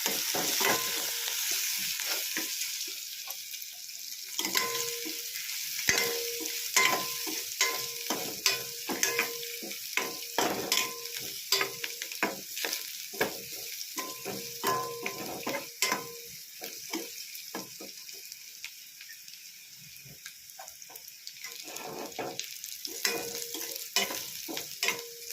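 Onions and tomatoes fry in a pan for chhole, a steady sizzle punctuated by frequent scraping and clinking of a spoon stirring against the metal, close and continuous throughout.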